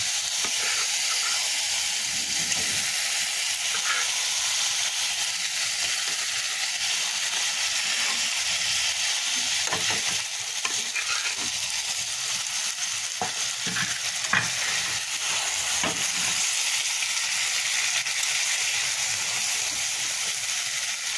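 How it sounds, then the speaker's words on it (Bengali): Tengra fish fry in cooked spice paste in a pan, giving a loud, continuous sizzle and hiss with scattered scraping stirs throughout. "মশলা কষা হয়ে গেছে, এখন মাছগুলো করে দিয়ে দেবো।"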